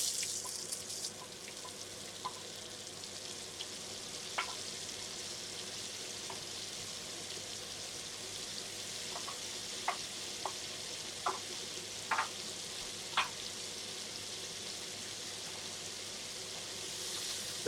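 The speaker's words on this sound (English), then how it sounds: "I'm going to go in with some onions, some garlic, and some chopped ginger. Just to stir that around for a few minutes" Onions, garlic and chopped ginger fry in butter and oil, a steady quiet sizzle running throughout with occasional soft clicks and scrapes of a spoon stirring the pan.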